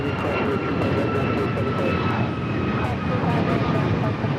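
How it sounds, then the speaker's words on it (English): A United Airlines Boeing 737 MAX 8 takes off from LAX, its engines giving a steady, broad roar with a faint whine running through the whole stretch. "This is United Airlines 1718 taking off to Kailua, Kona on the MAX 8."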